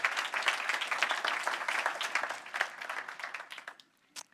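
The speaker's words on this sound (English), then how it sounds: "And you may give them an applause, of course." Audience applause for speakers at an offshore wind energy workshop: dense clapping from a seated crowd that holds steady, then fades out near the end with a last few isolated claps.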